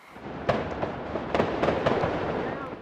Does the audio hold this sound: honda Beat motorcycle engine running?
no